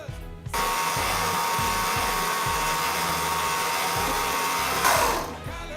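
Electric mixer whipping cold cream as sugar is added for a chocolate-strawberry cheesecake, a loud steady motor whir with a rhythmic pulsing drone, running continuously for several seconds before switching off.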